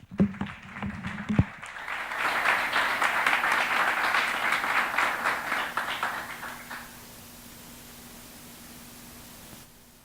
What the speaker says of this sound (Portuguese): vamos te aplaudir agora, Senhor